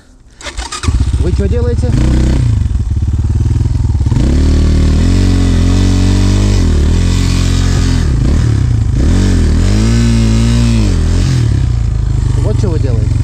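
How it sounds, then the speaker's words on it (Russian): An enduro motorcycle is kicked into life and idles loudly up close, its engine rising and falling in a few throttle blips as it pulls away toward a log, while someone speaks briefly over it. "заводим мотоцикл и трогаемся"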